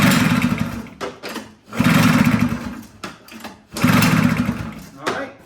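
A snowmobile engine with no carburetor fitted, its recoil cord yanked three times in a row, each long rasping pull followed by a short pause.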